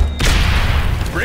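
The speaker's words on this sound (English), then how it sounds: "Grenades!" A grenade explosion in the Aliens: Dark Descent video game, one heavy booming blast with a rumbling tail lasting about a second, close and loud.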